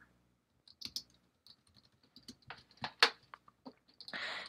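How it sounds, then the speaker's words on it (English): Computer keyboard typing at a desk, a sparse, irregular run of light clicks and taps close by, ending in a brief louder rustling burst. "Hold on, let me type this real quick."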